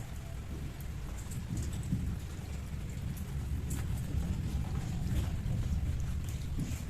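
Continuous heavy rain hisses and patters on surfaces with a low thundery rumble underneath, steady throughout and with no voices.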